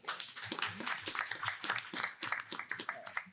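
Audience applause at a Diversity in STEM event: dense, steady clapping from many hands filling the room for a few seconds, with no speech on top.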